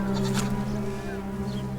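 Goats and sheep tended by a Bedouin herding family near Petra and Wadi Rum, with steady low animal calls and faint higher bleats blended into continuous outdoor herd noise.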